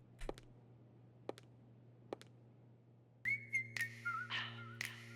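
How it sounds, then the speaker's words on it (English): Whistled melody from a K-pop song: after a few sharp clicks over low hum, a bright whistled tune enters with short, quick notes, fairly soft and without any talking. "The whistling part."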